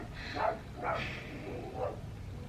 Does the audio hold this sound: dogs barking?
yes